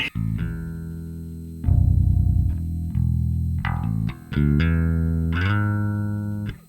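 A growling, distorted Fender Japan MB-5 five-string bass guitar plays sustained low notes and slides through an amp, loud and aggressive, with no voices.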